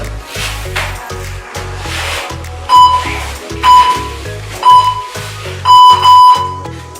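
A workout interval timer sounds a series of short, sharp electronic beeps about once a second, louder and doubled near the end, over a pulsing bass-heavy music beat.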